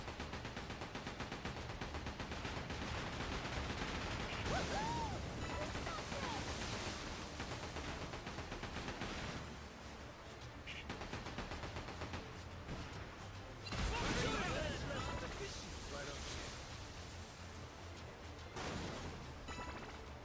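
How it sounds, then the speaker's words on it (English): Cannon fire from a pirate ship battle in the video game Like a Dragon: Pirate Yakuza, loud booming bursts amid continuous crashing noise and game music, with a sharp heavy blast near the end. "Cannons at the ready!"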